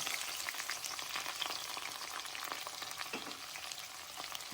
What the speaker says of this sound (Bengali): তো তেজপাতা লাল লাল একটু হয়ে গেছে, এবার আমি পেঁয়াজটা দিয়ে দেবো।